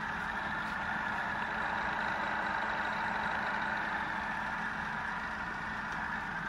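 A Falconi 50 mm radial drilling machine runs at about 600 RPM, giving a steady mechanical hum with a constant whir that holds even and unbroken throughout, with no voices.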